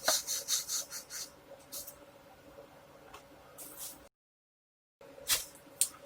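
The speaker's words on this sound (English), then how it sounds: "I'm just basically rubbing over the top, just to see what's happening." Light abrasive rubbing over the top of a Fender Squier SE guitar body during restoration gives a series of soft, close scratchy strokes, with a brief silent gap before a few more strokes.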